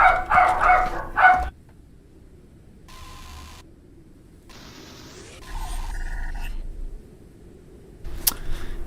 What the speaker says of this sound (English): every time a kid or another dog barks outside